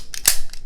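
A magazine slides into a Sig P210 pistol, a quick metallic scrape and sharp click within a fraction of a second, close up.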